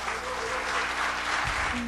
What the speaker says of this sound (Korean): 우리 교수님 나오실 때 큰 박수로 환영해 주시길 바랍니다